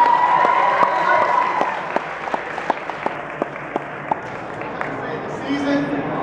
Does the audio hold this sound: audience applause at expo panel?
yes